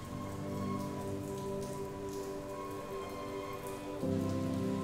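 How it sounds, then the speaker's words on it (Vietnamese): Rain falls steadily through a storm at a family home preparing against roof leaks, a constant dense patter at moderate level with no voices, its low hum swelling slightly near the end. "Mưa bão cũng là lúc gia đình chị Hà chỉ có hai mẹ con phải chuẩn bị phương án phòng chống dột"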